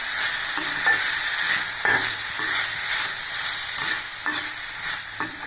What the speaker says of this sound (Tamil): நம்ம இந்த கோவக்காய் நல்லா போட்டு வதக்கிடலாங்க.